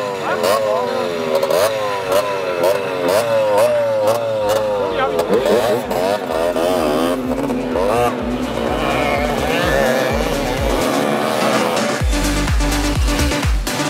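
Mopeds racing around a corner during a 24-hour village moped race, with several buzzing two-stroke engines rising and falling in pitch as they pass close by, under crowd noise and voices.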